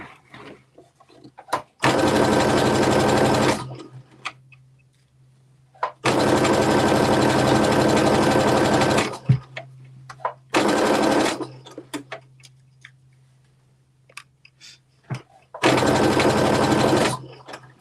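A domestic sewing machine back stitches a seam on a top-and-pants garment being cut into shorts. It whirs steadily in four separate bursts of a few seconds each, with quiet handling noises and brief talk in the pauses.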